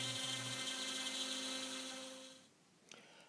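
CNC router with a 1/8 inch downcut bit carving a logo into wood, a steady high tonal spindle whine that winds down and fades out near the end, followed by a small click.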